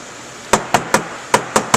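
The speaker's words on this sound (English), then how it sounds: "go ahead and give it a little tap because you're going to have some grated potatoes on the inside of your grater" A grater holding grated potato is tapped sharply six times against a hard surface, crisp knocks in an uneven rhythm after a half-second of quiet room noise, close and loud.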